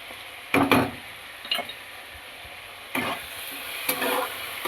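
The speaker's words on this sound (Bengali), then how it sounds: "এবার ভালো করে টমেটোটা যতক্ষণ না নরম হবে ততক্ষণ একটুখানি নাড়াচাড়া করে নিই" Chopped tomato fries in a pan with salt and turmeric, the steady soft sizzle broken by a few scraping stirs of a spatula at irregular moments.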